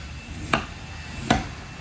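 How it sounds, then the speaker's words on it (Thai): A knife cuts crosswise through a fresh, firm bamboo shoot on a board, two separate sharp chops about three-quarters of a second apart, close and crisp against a quiet background. "หั่นขวางอย่างนี้นะ หั่นตัดเส้นมันอ่ะ"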